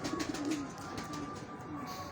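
Pigeon cooing from a rooftop loft of fancy pigeons, a soft low repeated coo with faint background bird sounds, fairly close and steady.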